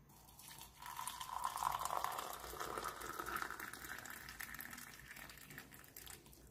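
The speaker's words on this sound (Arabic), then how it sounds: "هننزل عليهم بالميه المغليه" Boiling water poured over a couple of ingredients in a home kitchen, giving a steady, close splashing hiss that swells after the first second and runs unbroken for about six seconds, with no talking.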